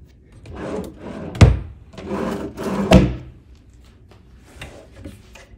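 A mini fridge door in a luxury Las Vegas resort hotel room opens and closes, with two sharp thunks and rubbing, rattling handling sounds around them, close by, then quieter clinks.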